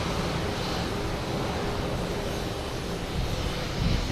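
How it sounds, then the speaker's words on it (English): JetBlue Airbus A320 jet taking off at Boston Logan, a dense steady rumble of engine roar heard at moderate distance, unbroken for the whole stretch with no voices. "You also have a JetBlue taking off, an A320."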